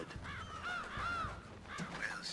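A raven caws repeatedly in the Metal Gear Solid video game, a series of harsh, rasping calls in an uneven rhythm, fairly loud and close, without speech.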